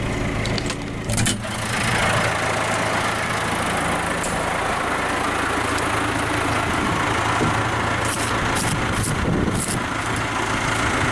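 A farm tractor idles with a steady low rumble at a silage clamp, joined by occasional clanks and knocks, and no talking.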